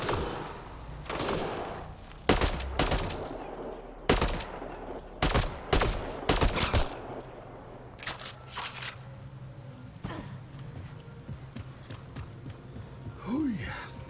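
Gunfire in the video game Mass Effect Andromeda cracks out as sharp, loud shots in uneven bursts and clusters, thinning toward the end over a low steady game background.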